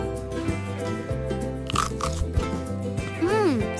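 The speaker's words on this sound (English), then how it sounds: "Time to taste my crunchy tower!" Crunchy bites into a cartoon tower of onion rings, a few crisp crunches set under bright music and a voice.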